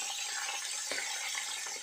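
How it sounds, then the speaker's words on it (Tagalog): Steady, dense sizzling of milkfish frying in hot oil, a continuous crackling hiss with a few brief louder pops. "Prito lang natin, hintayin natin maluto."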